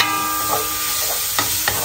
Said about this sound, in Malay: Lepas kita tengok daging ni agak goreng sikit